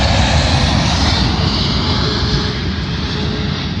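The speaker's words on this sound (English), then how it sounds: "Arriving in now is a LATAM flight from Sao Paulo, Brazil, born of a Boeing 777." LATAM Boeing 777 arriving on runway 27L at London Heathrow, a loud, close, steady roar of jet engines with a hissing high edge, sustained with no talk.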